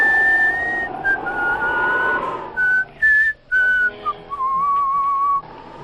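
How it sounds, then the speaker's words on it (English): Eerie, wavering whistles drift in broken phrases, rising and sliding between pitches with short pauses, loud and close over a low hollow backdrop. "It's the Whistling Skull, Stoney"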